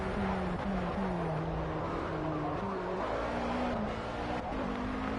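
Alpine race car engine in Project CARS during an endurance career race at Le Mans, a continuous buzzing drone that climbs and drops repeatedly through gear changes, with faint tyre noise and a soft voice in the background.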